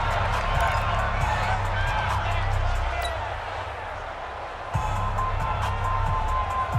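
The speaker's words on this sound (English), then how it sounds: "The crowd getting into it as we come up on a big 3rd down." Crowd noise in a Madden football video game keeps up a steady stadium roar and swells near a big third down, with a commentator talking over it.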